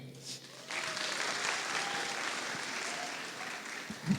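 Audience applause at a Diwali celebration honoring a special guest from the Indian Consulate in New York, starting after a faint, quiet moment, then steady moderate clapping for several seconds, with a brief louder burst near the end.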